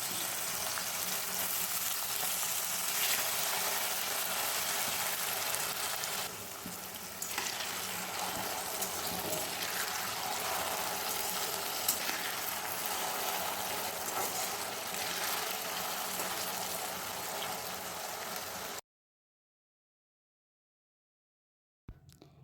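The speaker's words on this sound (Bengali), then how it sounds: "কড়াইটাও গরম হয়ে গেছে এখন এর মধ্যে আলু ভাজাটা দিয়ে দেবো" Raw potatoes sizzle and crackle loudly in a hot wok for crispy fried potatoes, a steady dense frying hiss close by, with occasional stirring, then cutting off abruptly into silence near the end.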